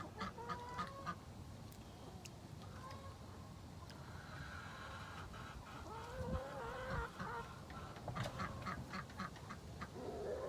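Backyard flock of chickens and roosters, including a gray rooster, clucking and squawking continuously at close range with bursts of louder calls, while a person talks faintly in the background.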